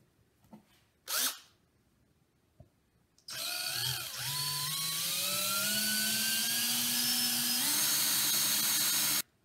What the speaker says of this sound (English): now I'm going to drill some holes